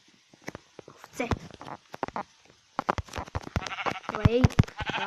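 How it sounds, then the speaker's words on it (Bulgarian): Sheep bleat in the Minecraft video game, several short cries close up over soft footstep sounds, with a voice talking throughout. "Овце."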